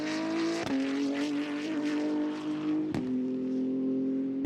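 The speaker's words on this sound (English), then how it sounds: "a BMW M4 GT3 EVO this year that was testing in Misano for GT World Challenge Europe. Let's listen to it come past here." A BMW M4 GT3 EVO race car testing at Misano for GT World Challenge Europe roars past, its steady loud engine note with sharp gear-change breaks at a constant pitch, no talk over it.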